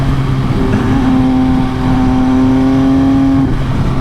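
An MV Agusta Brutale 800 RC motorcycle running in sixth gear, its engine a loud, steady droning growl heard close, with a held tone rising slightly and then easing off near the end.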